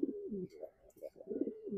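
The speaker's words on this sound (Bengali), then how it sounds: "এ হলো আমার রেসার কবুতরটা" A racing pigeon coos close by in a few soft, throaty, rolling phrases that rise and fall, with faint background noise between them.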